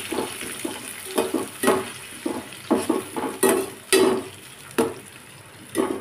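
Onions and tomatoes are stirred in oil in a pan, a spoon scraping and clinking in irregular strokes against the metal over a soft, steady frying sizzle.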